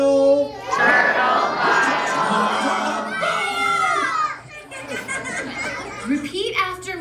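A crowd of children at a Turtle Talk show in Epcot, Disney World, yells and laughs together loudly and close, with voices overlapping throughout.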